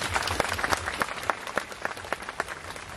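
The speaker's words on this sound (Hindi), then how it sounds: "ताली मार देंगे।" Audience clapping at a fiftieth-anniversary jubilee Mass in a Catholic parish, with a steady patter of many hands and sharper individual claps standing out throughout.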